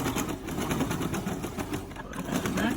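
A Brother 2600i sewing machine stitches shirring fabric with a steady, close, continuous whirring motor hum and fast rhythmic needle ticking, running without pause throughout.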